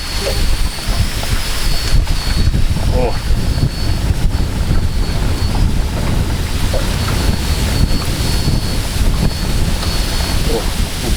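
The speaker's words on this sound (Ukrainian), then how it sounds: "ви чуєте, який вітер" Strong wind buffets the microphone nonstop on a boat while fishing, with a heavy, rumbling roar, and a person's brief exclamation is barely audible beneath it.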